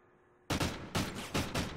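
Four loud, sharp gunshot bursts in a video game gun battle, a search and destroy match, each blast spaced roughly half a second apart and close.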